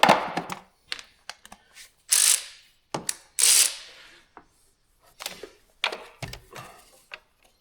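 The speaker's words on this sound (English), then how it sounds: "Careful when you're using your ratchet, just in case you arc out on the battery." A ratchet loosening bolts on the thermostat housing of a 2016 Jeep Patriot: bursts of quick clicking and metallic ratcheting with short pauses between turns, close and fairly loud against a quiet background.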